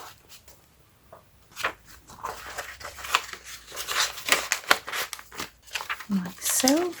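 Paper envelope crinkled and handled while assembling a handmade journal cover, a series of close, uneven rustles and crisp crackles with short sliding scrapes, quiet at first and busier later.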